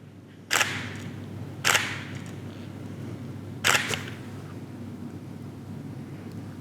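Three sharp camera shutter clicks with an off-camera flash setup, each a crisp snap, the first two about a second apart and the third two seconds later, over a steady low room hum with no talking.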